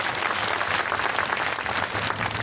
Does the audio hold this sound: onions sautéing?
no